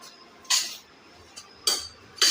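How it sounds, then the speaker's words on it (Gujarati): A metal spoon mixes chaat masala into batter for masala idli in a metal bowl, giving three short, bright scraping clinks spaced about a second apart, close by and fairly loud against quiet. "તો આપણે આને બધું મિક્સ કરી દઈશું।"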